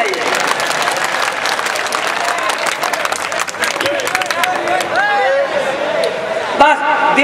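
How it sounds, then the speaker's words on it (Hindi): A crowd at a poetry gathering during the Kalyanji fair in Gangapur City applauds, sustained dense clapping from many people with murmured voices and whistles mixed in, loud and close. "आप लोग ताली बजाइए"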